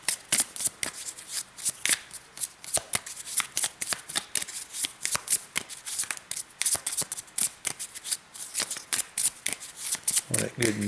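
Cards from the draw pile of a solo Kharkov board wargame being shuffled by hand, a long run of crisp riffling flutters and snapping bursts repeating quickly, close and fairly loud, with a voice talking faintly in the background.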